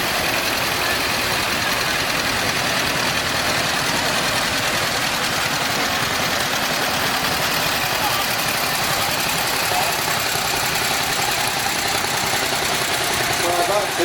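Vintage tractor engines idle at a tractor parade at the Weald and Downland Museum, a continuous loud rumbling chug running throughout with background voices mixed in.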